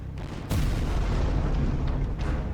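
An ammunition wagon struck by a Prussian cannonball blows up in a sudden loud blast, followed by a sustained, rumbling roar that stays heavy and dense to the end.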